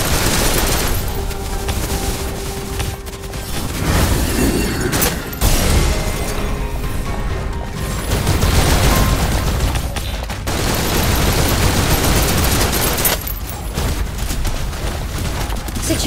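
Sustained gunfire in Snowbreak: Containment Zone: loud, dense volleys of shots with mechanical clatter, broken by a few brief pauses, continuing for about sixteen seconds.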